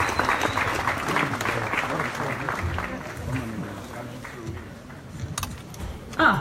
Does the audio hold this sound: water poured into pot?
no